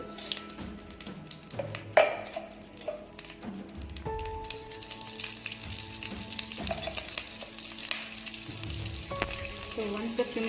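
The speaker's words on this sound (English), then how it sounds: "So once the oil and butter combines well, we will add cumin seeds to this." Cumin seeds sizzle and crackle in hot oil and butter for a matar paneer masala, a steady close frying hiss with occasional utensil clinks and stirring scrapes.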